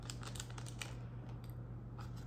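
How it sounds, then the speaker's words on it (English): Scissors snip and crinkle through the foil wrapper of a Pokémon card pack, a quick cluster of sharp cuts and rustles up close, then quieter crinkling. "This is why I don't like opening them with scissors."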